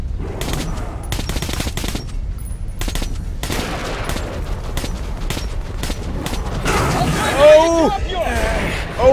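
Rapid gunfire bursts in the video game Metro: Last Light, loud and repeated in clusters, mixed with game effects and a player talking over the action.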